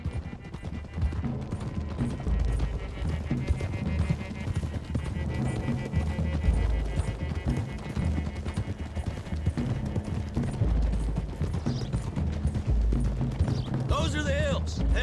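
Horses galloping in Red Dead Redemption 2 as riders climb into hills: continuous rapid clip-clop of hooves throughout, with people talking over it and a brief whinny near the end.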